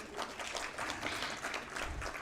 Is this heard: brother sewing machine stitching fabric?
no